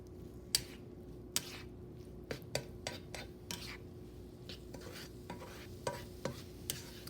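Peas being stirred into a garlic pineapple quinoa stir-fry with a utensil, giving irregular scraping clinks against the pan over a soft steady sizzle, close and alone with no talk.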